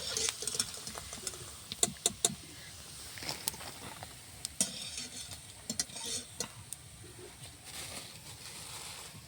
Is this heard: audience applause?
no